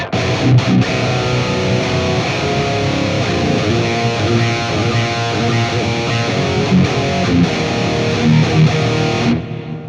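A big, chunky distorted electric guitar rhythm tone from a Fractal AX8 with delay and reverb plays steadily and loudly for about ten seconds as sustained heavy chords, then cuts off at the end.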